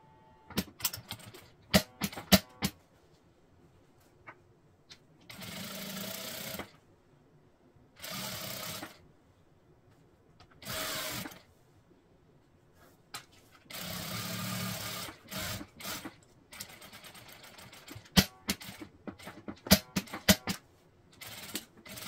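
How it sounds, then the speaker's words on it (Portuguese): A sewing machine stitches around the edge of a circular fabric bag in several bursts of rapid mechanical whirring, separated by quiet pauses and small clicks as the fabric is turned. "Agora é só passar uma costura em toda a volta."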